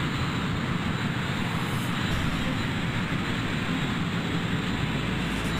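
A jet fighter's engine in the Strike Commander flight game, faster than an F-16, as a steady, loud, broadband roar that holds unbroken throughout.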